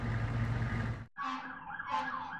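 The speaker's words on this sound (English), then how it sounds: "The storm was a screaming duet with the approaching prowl car sirens." Police car sirens from the Max Payne video game wail loudly in rising and falling sweeps, following a dense rush of stormy noise that cuts off abruptly.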